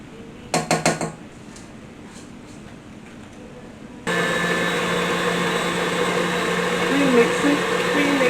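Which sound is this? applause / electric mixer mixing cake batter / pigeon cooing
electric mixer mixing cake batter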